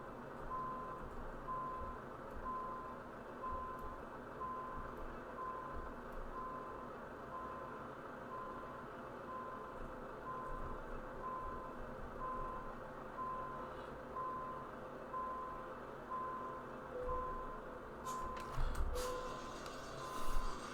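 Steady, evenly spaced reversing beeps from a truck parking its trailer in Euro Truck Simulator 2, Crete DLC, Greece, sounding continuously over a low engine rumble, with a few brief clicks near the end.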